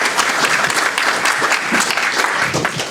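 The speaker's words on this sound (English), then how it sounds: "I think we should give her a round of applause" Audience applause for an author at a 2023 Dublin writers festival LGBTQ+ publishing panel, a steady, full burst of clapping from a seated crowd that holds for several seconds.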